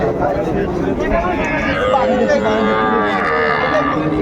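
Sahiwal cattle and calves at a busy rural livestock market in Dinajpur, with loud cow moos rising over a dense crowd babble and nearby chatter.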